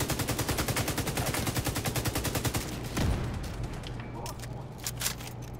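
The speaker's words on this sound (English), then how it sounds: "Shooting through that fence." Rapid automatic gunfire in The Division 2, a player shooting through a fence: a fast steady burst of shots for about three seconds, then a heavier blast and scattered fainter shots and clatter trailing off.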